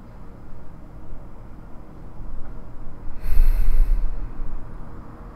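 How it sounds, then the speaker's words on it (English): A single deep breath taken in and let out slowly, heard close as a soft airy rush that swells near the end, with no talking. "Let's start by taking a deep breath together."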